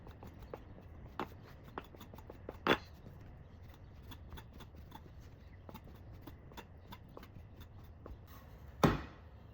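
Knife cutting through fresh homemade spaghetti pasta dough on a board, quiet scattered taps and soft scraping, with two sharper chops standing out.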